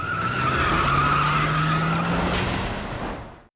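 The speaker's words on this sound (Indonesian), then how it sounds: "Baxter dan Marshall memutuskan untuk kabur melarikan diri dengan menggunakan sebuah mobil yang sebelumnya telah mereka siapkan." A getaway car in a heist film speeds off with a loud screech of tyres and rising engine noise, the squeal sustained for several seconds before cutting out abruptly.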